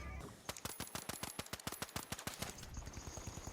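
Pistol fire from a light-class character in the shooter game The Finals pops in a quick, evenly spaced string of about a dozen sharp shots, fairly close and crisp, then stops.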